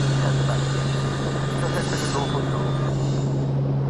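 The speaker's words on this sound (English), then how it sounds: "a flight in a Robinson R44 helicopter from Denham to Denham" A Robinson R44 helicopter in flight, its engine and rotor making a loud, constant drone with a strong steady hum throughout, heard from inside the cabin.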